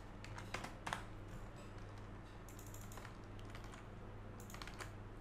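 Quiet, steady typing on a computer keyboard, with light irregular key clicks and a few slightly louder taps, heard alone over a faint constant hum.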